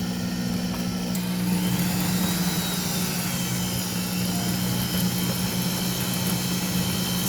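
An electric mixer whirs steadily, beating lemon cream cheese cupcake batter in a home kitchen, a constant loud motor drone with no talk.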